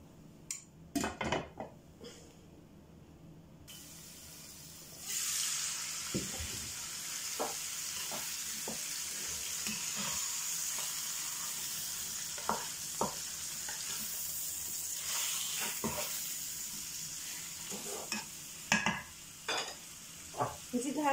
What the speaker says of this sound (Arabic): ونخليوه يتشحر.